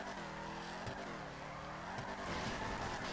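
A car drifting in a racing video game, engine revving in rising and falling sweeps with tire squeal underneath, continuous and close.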